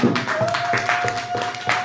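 A church congregation claps together to praise the Lord in a rhythmic, even beat of sharp hand claps, with a sustained musical or sung tone running beneath them.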